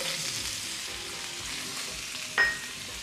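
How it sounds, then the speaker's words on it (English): Shallot sizzles steadily in butter in a cast iron pan, a constant close frying hiss with a brief sharper flare of crackle near the end. "Shallot in the pan."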